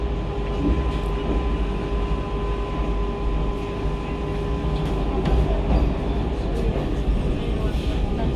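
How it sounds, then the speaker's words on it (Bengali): Steady rumble of a Vande Bharat Express passenger train running on rails after leaving Bolpur Shantiniketan station, with continuous low rattling and clatter throughout, close and fairly loud, no voices. "আমাদের ট্রেন ছেড়ে দিল বোলপুর শান্তিনিকেতন স্টেশন"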